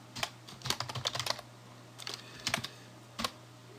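Code is typed on a computer keyboard in quick irregular bursts of crisp key clicks, with short pauses between flurries and no talk.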